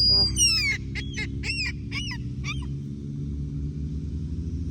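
A seagull gives a series of five harsh, rising screeches in quick succession, loud and close over a low background hum, then falls silent.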